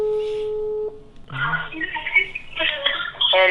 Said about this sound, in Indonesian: kita telepon Anissa dulu